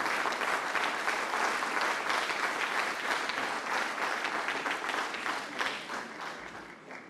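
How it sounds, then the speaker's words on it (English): An audience in St. Maarten applauds as the Commissioner of Culture walks onto the stage, steady full clapping that gradually thins and fades toward the end. "give the Commissioner of Culture, Mr. Louis E. LaBase, a round of applause as he comes on stage"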